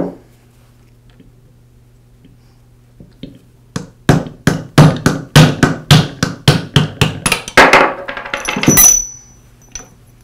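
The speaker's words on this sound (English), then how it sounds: "I'll place the pad support over a vise and use a socket to tap the bearing out" A socket is hammered against a bearing to drive it out of a Porter Cable sander pad support held over a vise, a quick series of about a dozen sharp metallic taps, close and loud, speeding up toward the end under a faint steady hum.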